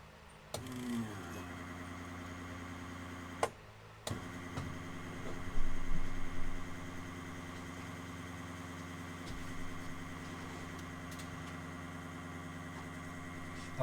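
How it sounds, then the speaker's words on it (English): A Walbro 255 fuel pump runs in a Nissan S13 with a steady, close electrical whine and hum that holds unbroken for over ten seconds, dropping out once briefly before resuming. "Okay, I hear the pump going."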